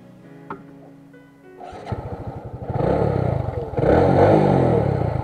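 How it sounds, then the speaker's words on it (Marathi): A muscular motorcycle starts with a short clatter, then the engine idles in rapid thumping pulses before revving up loudly and holding a strong roar, up close. "माझी बाईक तो चालवतोय आणि त्याची बाईक विक्रांत चालवायची संधी मला मिळालेली आहे."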